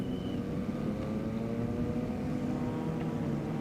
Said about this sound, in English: Can hear the revs picking up in the background.